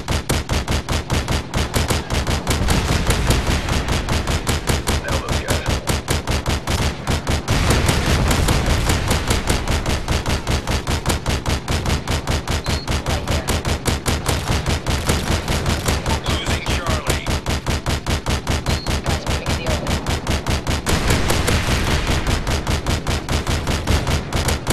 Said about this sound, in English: Friendly Ospreys gunner inbound.